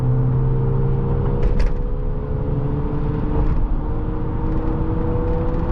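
A Toyota Supra's engine runs nearby in steady low harmonic tones, a continuous rumble with a faint rise around the middle and no talk.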